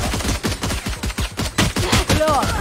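Rapid gunfire in a Spanish-language battle-royale-style shooter match, with dense bursts of automatic shots rattling in quick succession, loud and close throughout, with a brief whining tone near the end.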